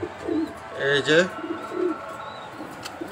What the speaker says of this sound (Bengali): এখানে দেখতে পাচ্ছেন এক জোড়া সবজি রেসার হুমা কবুতর, একদম টপ কোয়ালিটির।